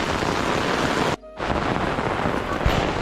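Heavy rain pours down at Shoolini University, a dense, loud, close roar with wind buffeting the microphone. The sound cuts out briefly partway through and then resumes.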